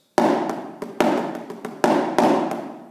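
Sharp snare drum hits in a tight rhythmic pattern of eighth and sixteenth notes, accented strikes with quicker fills between them, crisp and close with a short ring after each.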